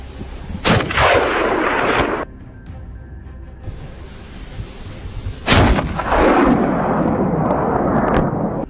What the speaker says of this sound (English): He waited until the animal lost its balance, then took a precise shot at the vital point.